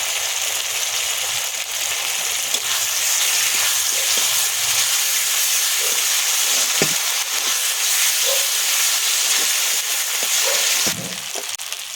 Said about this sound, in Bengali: আদা রসুন দেব, আর এই লঙ্কা বাটাটাও লঙ্কা আর কাঁচা লঙ্কা শুকনো লঙ্কা বাটাটা দিয়ে দেবো। একসঙ্গে ভালো করে ভেজে নেব।